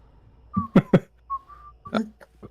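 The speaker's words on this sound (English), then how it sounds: "Whistle while you walk." A person whistles short, thin tones in a quiet room, interrupted by a few soft breathy bursts and small throat noises, all fairly close and modest in level.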